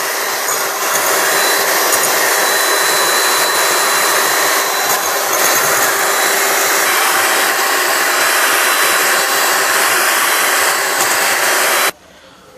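An electric mixer beats meringue with powdered sugar, a loud, steady, high whirring drone that runs continuously and then cuts off abruptly near the end.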